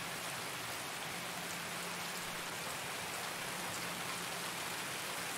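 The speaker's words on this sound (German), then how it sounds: "Der Regen ist laut." Heavy, steady rain in the shooter game Escape from Tarkov, a dense, loud, even hiss of drops on surfaces that fills the whole stretch without a break and with no voices.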